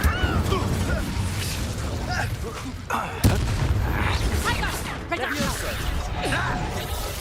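Spell blasts and impacts from Incendio and Expelliarmus being cast in Hogwarts Legacy, a steady run of booms and crackling hits in the foreground with a voice talking over them.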